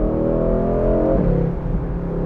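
A Mercedes-AMG GT Roadster sports car engine revs loudly and steadily, its tone climbing then dipping slightly, with no talking.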